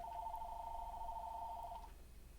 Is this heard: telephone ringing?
yes